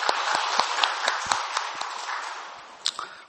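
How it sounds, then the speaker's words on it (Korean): A church congregation at a Sunday service breaks into sustained applause, many hands clapping at once in a dense, even burst that fades toward the end. "영광의 박수를 주님께 돌리십시다."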